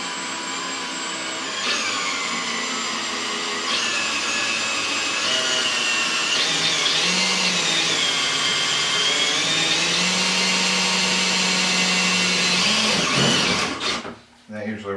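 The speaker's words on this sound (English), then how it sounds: "So I'm just going to center drill." A steady, high-pitched whine from a Dunlap Craftsman 103.23622 drill press runs continuously near the mic, shifting slightly in pitch as it center drills metal, then winds down abruptly at the end.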